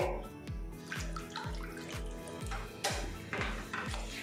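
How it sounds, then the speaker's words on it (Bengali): A cup of water goes into spice masala cooking for a potol and masoor dal gravy, giving close, steady watery pouring with rhythmic gurgling pulses and a brief louder splash near the end, with no talk. "এবারে এর মধ্যে দিয়ে দেবো 1 কাপ পরিমাণে জল।"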